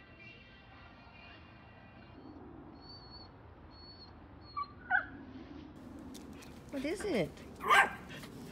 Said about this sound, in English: Oh, quit barking.